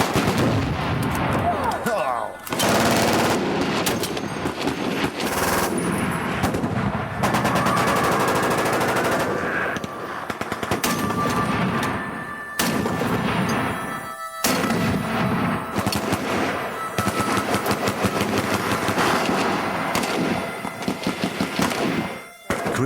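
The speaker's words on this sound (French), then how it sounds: "On sent la vibration, on sent l'air qui se déplace lorsque quelqu'un tire à côté de vous avec une arme automatique." Automatic weapon fire at a shooting range, long loud bursts of rapid shots broken by brief pauses, close and powerful with a faint voice at times.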